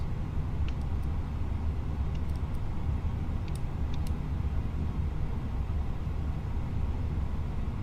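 Airliner engines in a flight simulator on a motion rig run steadily after start, a constant low droning rumble with a few faint clicks and no talking.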